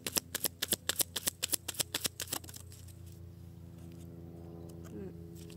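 Tarot cards are shuffled in a quick run of crisp, rhythmic riffling flicks for about two seconds. Then it turns quieter, with faint handling noises while a person speaks.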